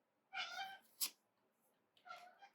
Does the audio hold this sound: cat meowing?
yes